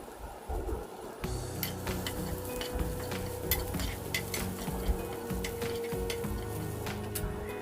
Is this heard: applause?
no